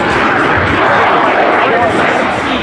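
A CF-18 Hornet jet roars past at the Jones Beach airshow in 2010, a loud, continuous broadband rush of engine noise that fills the whole moment and drowns out everything else.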